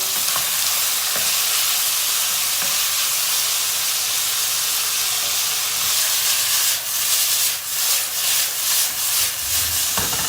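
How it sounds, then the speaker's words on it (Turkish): Steady, loud sizzling of chicken pieces stir-frying in a hot pan on high heat, with bursts of stirring and scraping toward the end, no voices. "Bunu sallaya sallaya kavuracağız."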